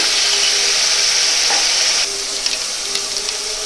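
Vegetables with tomato puree and salt frying in a pan for shahi paneer malai curry, a loud close sizzle with stirring that quiets to a softer fry with a few light clinks.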